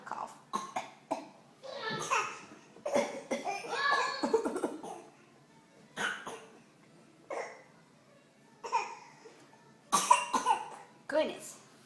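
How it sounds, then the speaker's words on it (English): A small child coughs several times in short bursts indoors, close and fairly quiet, mixed with the child's babbling and giggles while an adult talks nearby. "Oh, poor child cough."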